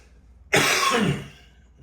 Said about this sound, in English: Okay, excuse me for the coughing.